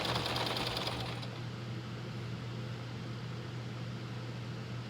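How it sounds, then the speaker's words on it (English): A sewing machine stitches the sleeve seam of a homemade unicorn dress, a steady close mechanical whir holding throughout with a brighter, busier burst of stitching in the first second. "just sew about 1 inch of the sleeve, and don't forget to backstitch"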